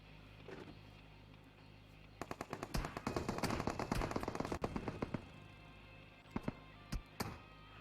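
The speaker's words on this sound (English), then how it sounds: "Shots actually connecting onto Kira." Automatic gunfire in a PUBG Mobile esports match: dense bursts of rapid shots crackle for several seconds, then thin out into a few isolated, sharp reports toward the end.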